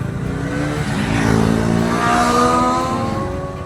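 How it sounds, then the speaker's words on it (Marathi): Motor scooters of other riders on a TVS Ntorq 125 road trip from Mumbai to Lonavla approach along the road, engine drone swelling to a peak midway and then easing off as they pass. "रायडर येतोय मागून वाटतं, आवाज येतोय गाड्यांचा."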